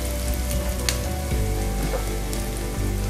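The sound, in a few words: masala frying for egg curry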